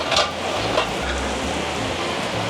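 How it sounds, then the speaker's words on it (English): Bacon and vegetables sauteing together in a pan for a fish chow mein, giving a steady low sizzle and soft stirring scrapes throughout with no talking. "We're just going to add a little bacon. Kind of let that all saute together for a second."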